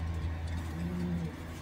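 A late-hatch racing pigeon coos in a loft, a soft, low, drawn-out call repeated over a faint steady background hum.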